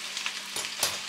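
Mushrooms fry in a hot wok with a steady sizzle and occasional stirring scrapes, close and continuous.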